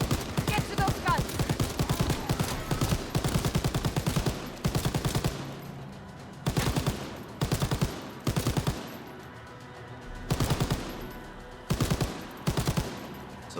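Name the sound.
machine gun fire in a zombies video game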